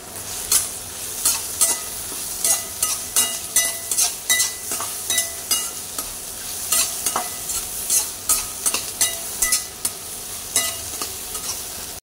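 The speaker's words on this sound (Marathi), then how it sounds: "आता ह्यामध्ये घालूया लसूण, आले, कढीपत्ता आणि कस्तुरी मेथी। हे 2 मिनिटं भाजून घेऊया चांगलं।" Garlic, ginger, curry leaves and dried fenugreek leaves roast in a pan for a chole masala, with a steady sizzle under repeated rhythmic stirring scrapes of a spoon against the metal, close and continuous for about twelve seconds.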